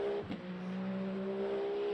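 Toyota hypercar engine in Le Mans Ultimate racing, a steady high-revving drone with a brief dip and shift around the first quarter, then holding a sustained tone at close range with no talk.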